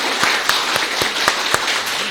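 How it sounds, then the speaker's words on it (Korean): A church congregation at a Korean Sunday service claps in unison, a steady rhythmic beat of sharp hand claps about four per second, evenly spaced and fairly close. "우리 감사의 박수 한번 주시겠습니까?"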